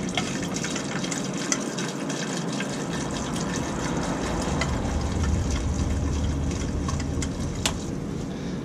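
Fresh diesel fuel pours through a funnel into a Crown's new fuel filter, a steady close liquid gurgle and trickle running unbroken with a faint hiss on top.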